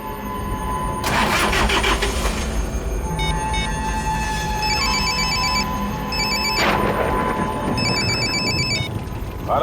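A phone ringtone chirps in repeated electronic patterns over a loud, steady engine rumble and road noise, with bursts of broadband whooshing now and then.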